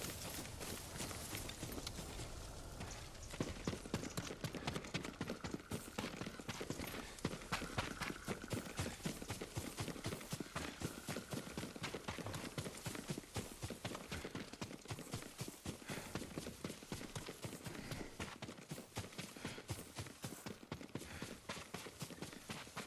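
Horse hooves galloping in the video game Ghost of Tsushima, a fast, continuous clip-clop rhythm that drums on steadily for over twenty seconds at a close, even level with no voices.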